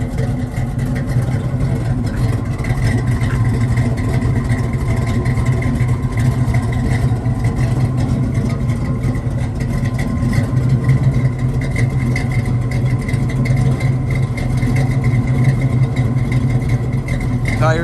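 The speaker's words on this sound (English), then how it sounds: "cammed out engine." A cammed engine in a 1979 Pontiac Trans Am runs steadily and loud, with a lumpy, rumbling idle that holds close and constant throughout.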